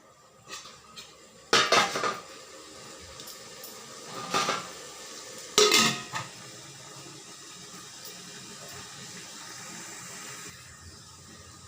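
A lid set on a cooking pot of handi mutton, giving three separate metallic clanks spread over several seconds against a quiet kitchen hum.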